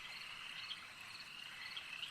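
A large warty toad, the biggest found in France, gives a steady continuous trilling croak alongside insect-like chirring in an outdoor night setting.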